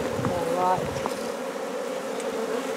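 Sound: bees buzzing around a bee box

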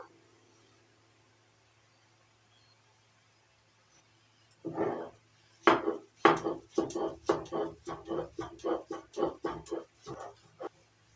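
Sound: grinding prawns into a paste

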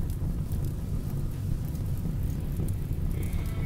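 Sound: rain falling in the video game RimWorld

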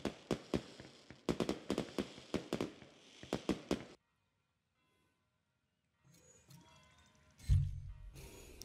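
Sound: firecrackers in a video game

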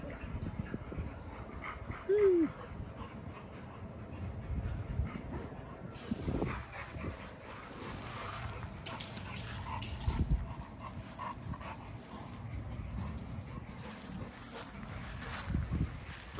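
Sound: Great Dane dog whimpering

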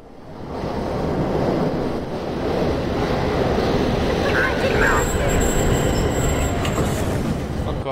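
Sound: train arriving in the video game The Darkness

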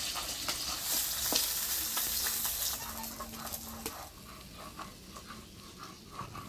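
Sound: fish frying in oil

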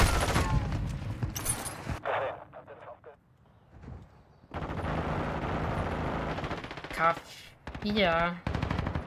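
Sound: gunfire in Call of Duty video game

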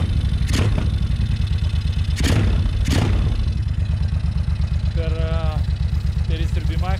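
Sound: Suzuki Intruder 1500LC motorcycle engine running and backfiring

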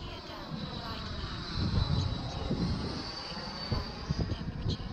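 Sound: RC Skymaster twin EDF jet model flying a gear pass

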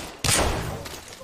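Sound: gunfire in the video game Apex Legends

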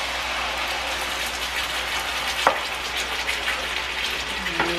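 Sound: onions and ground spice paste frying in a pan

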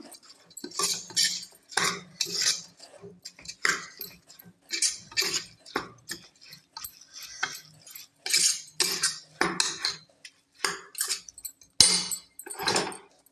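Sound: rice being stirred in a pot

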